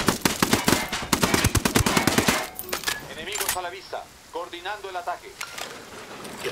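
Gunfire in the video game Ghost Recon Wildlands: a rapid burst of automatic shots, then scattered single cracks fading under game sounds and chatter-like tones.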